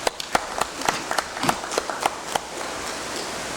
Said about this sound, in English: So yes, let's give him a round of applause.